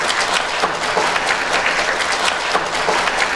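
Warm, sustained applause from a crowd of guests at an engagement ceremony, a thick, continuous wash of many hands clapping at a steady level.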